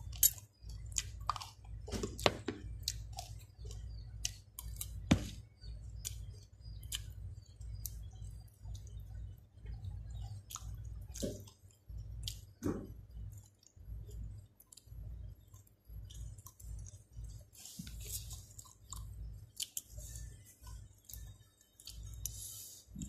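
Close, quiet chewing of sticky rice with chili dip and fresh vegetables, soft wet crunches and smacking bites repeating irregularly, with no talking.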